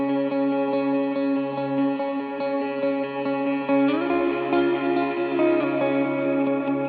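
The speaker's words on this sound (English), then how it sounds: "So again, the same tone, droney, reverb," Electric guitar playing a sustained, droning worship chord part washed in heavy reverb and long delay, with layered ringing harmonics; a low bass-like rumble joins partway through as the texture thickens.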